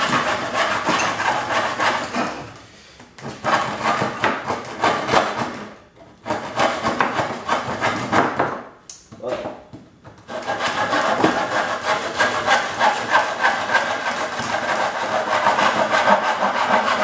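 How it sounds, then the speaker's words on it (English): Hand saw cutting wood for a homemade table, loud rhythmic rasping strokes close by, broken by a few short pauses before resuming steadily. "Look, I need my saw."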